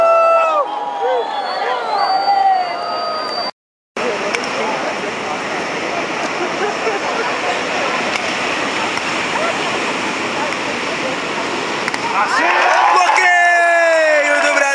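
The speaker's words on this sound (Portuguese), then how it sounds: "A torcida vai." Crowd at a beach volleyball gold-medal match roaring and cheering in a sustained wash of noise, with a brief cut-out early on and a commentator's voice returning at the end.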